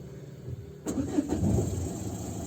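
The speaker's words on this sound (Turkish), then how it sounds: "Stop etti bir kere tekrar çalıştır." A car engine is restarted after stalling during a driving lesson: a brief cranking burst, then the engine catches and settles into a steady, fairly close idle rumble with no talk over it.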